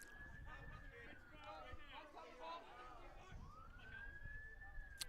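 Emergency vehicle sirens wail near a baseball field during a high school game, a rising and falling tone sweeping steadily throughout, moderately distant, with people talking over it.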